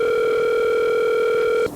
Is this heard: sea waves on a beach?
no